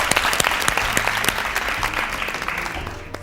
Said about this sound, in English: A round of applause for Siphosenkosi for being such a great sport.